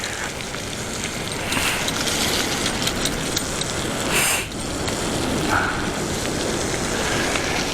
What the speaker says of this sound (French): c'est trempé, c'est mouillé, il pleut